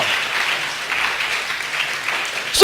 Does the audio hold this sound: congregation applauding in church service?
yes